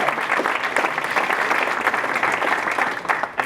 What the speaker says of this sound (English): Please join me on a big round of applause.